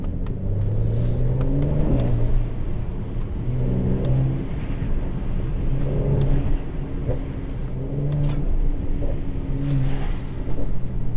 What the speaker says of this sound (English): the car just sounds a lot more growly lower down the RPM range